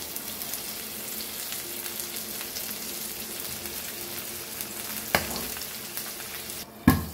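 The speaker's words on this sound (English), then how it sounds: "We'll cover this and we'll fry this." Fish roe frying in hot oil over a low flame in a home kitchen, a steady close crackling sizzle throughout with a couple of sharp pops and a clatter near the end.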